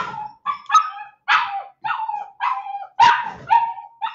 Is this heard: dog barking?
yes